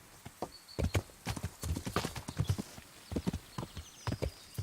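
Horse hooves clip-clopping at a walk along a forest road in the video game Kingdom Come: Deliverance, steady close footfalls with an occasional snort or whinny.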